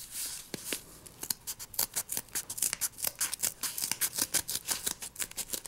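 Keychain multitool scissors snip through paper folded eight layers thick, a rapid run of crisp, close cutting clicks and crunches repeating steadily, with no voices.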